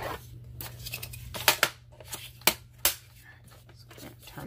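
Scissors cut paper tabs in a few sharp, close snips spaced irregularly over faint room noise, with no one talking.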